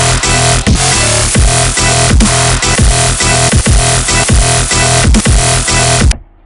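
A loud wobble-bass growl synth patch built in Massive, in a dubstep style, pulses in a fast regular rhythm of rhythmic throbs for about six seconds before cutting off abruptly.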